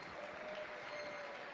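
A livestock show crowd in a county fair arena applauds steadily, a soft, distant wash of clapping with no speech, a faint tone running through it.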